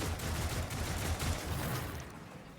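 A dense, sustained barrage of gunfire in Warhammer 40k Rogue Trader, a continuous rattling roar of overlapping shots that holds steady and tapers off slightly at the end.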